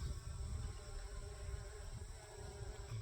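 Honey bees hum steadily inside a hive that seems to lack brood, a dense, continuous buzz close by with no talk over it.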